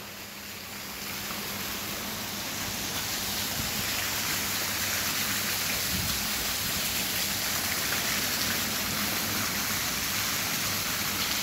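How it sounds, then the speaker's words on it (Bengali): Heavy rain pours steadily in a dense, unbroken wash of hiss across the whole stretch, loud and close around a building where water is pooling, with no voices. "এখনো বৃষ্টি পড়তেছে।"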